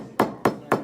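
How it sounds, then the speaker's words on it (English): A hammer striking a sugar cube inside a plastic baggie in a chemistry lab: three sharp, evenly spaced whacks, close and fairly loud, with no talking. "Okay, they took a hammer."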